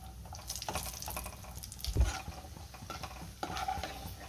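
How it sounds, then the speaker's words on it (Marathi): Whole cashews fry in oil over a low flame, a soft continuous bubbling sizzle with occasional stirring scrapes and one louder knock near the middle, with no speech. "काजू चांगले लाल होईपर्यंत आपल्याला तळून घ्यायचे"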